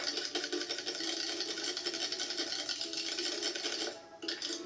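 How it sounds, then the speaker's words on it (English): A whisk beats olive oil in a bowl, a fast scratchy rhythmic swishing, close and steady, that pauses briefly near the end and then resumes. "And whisk it."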